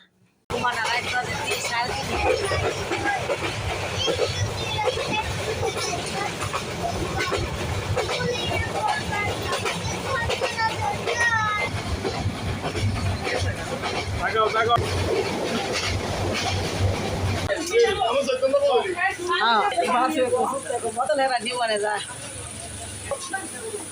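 Inside a moving passenger train on an overnight journey to Chattogram, a continuous loud rumble and rattle of the carriage, with people talking throughout and the noise changing near the end.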